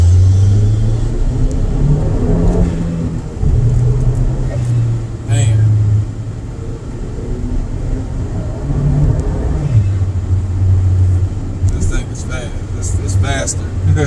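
A tuned 2009 Acura RDX SH-AWD rumbles from inside the cabin as it accelerates on a ride, its engine note rising and falling in bursts while people talk over it.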